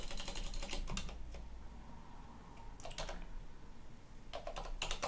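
Quick bursts of keystrokes on a computer keyboard as a git clone command is entered on a Linux system, fairly close, with short pauses between clusters of clicks and no voices.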